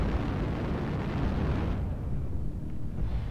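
Heavy artillery strike from a mech combat game with snub PPC-armed mechs, a deep continuous rumbling blast that roars loudly throughout and tails off slightly near the end.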